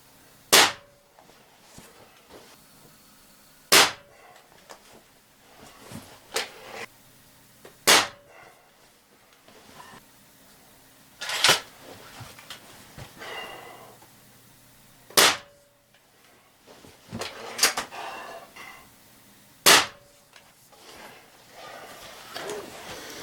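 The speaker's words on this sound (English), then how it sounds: "We're going to run 5 shots across it using Crossman Premier" Six sharp, spaced shots from a Beeman Grizzly X2 dual-caliber air rifle firing Crosman Premier 14.3-grain pellets, each a crisp crack a few seconds apart, with quieter handling noises and faint movement between them.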